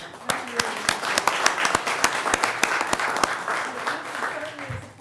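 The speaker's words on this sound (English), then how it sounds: "So we need to give them a round of applause" An audience at a board meeting breaks into steady applause, dense overlapping claps at close range that carry evenly through the whole stretch with no voices on top.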